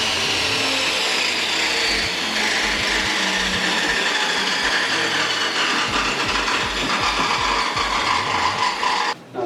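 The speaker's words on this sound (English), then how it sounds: "these are fire retardant panels. I'm going to rip them down and fit them in between the studs there" Fire retardant insulation panels are ripped down for fitting between wall studs, producing a continuous loud, rough power-tool whine and rattle, close up, that cuts off abruptly at the end.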